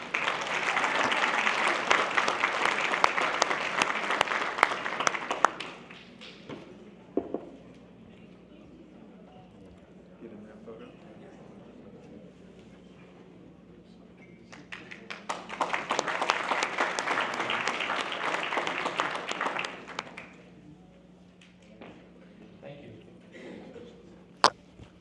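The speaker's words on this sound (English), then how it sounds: "A big round of applause for her." Audience applause for an award recipient at a community leaders' honoring dinner held by the DFW Muslim American Chamber of Commerce: two loud bursts of clapping, the first opening the clip and the second roughly ten seconds later, with quieter room murmur in between.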